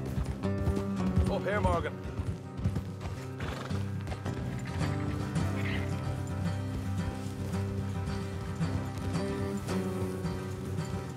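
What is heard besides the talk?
horses galloping in video game Red Dead Redemption II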